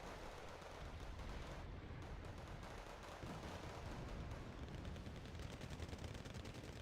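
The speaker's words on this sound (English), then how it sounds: "BVPs are going to be firing away" Sustained machine gun fire from BVP infantry fighting vehicles in the video game Wargame Red Dragon, a dense continuous rattle of gunfire with heavier thumps mixed in, steady and fairly loud throughout.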